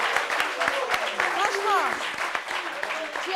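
A small group claps a brief round of applause in a meeting room while a voice talks over it, fairly close.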